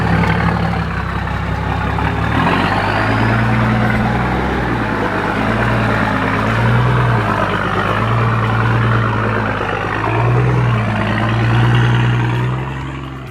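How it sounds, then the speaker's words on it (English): Big diesel engine of a Nissan GU Patrol idling on a bush track, a loud, steady low rumble close by with slight rises and dips in revs throughout, no talking. "Gotta love the sound of a big diesel idling up the tracks"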